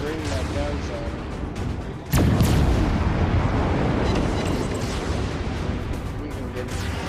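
Big naval guns of a cruiser in World of Warships boom out in a sudden heavy blast, then keep up a dense, loud rumble of gunfire and explosions over a continuous battle din.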